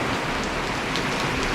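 Steady rain pours down in a rainy-season downpour in Laos, a dense, continuous hiss of drops striking surfaces nearby, with no voices.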